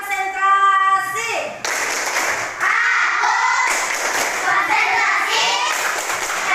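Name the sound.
schoolchildren doing the concentration clap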